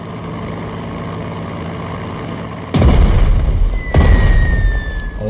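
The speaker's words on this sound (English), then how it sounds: "It is high time for the aerial bombardment of the enemy artillery." Aerial bombardment in a World War II strategy game: a steady engine drone is broken by two heavy, loud explosions about a second apart, each leaving a rumbling tail.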